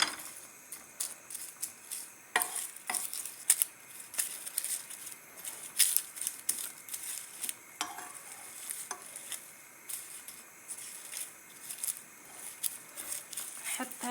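Herbal hair-dye ingredients roast in a pot on a gas stove while a spoon stirs them, giving close, repeated scraping strokes over a soft, steady sizzle.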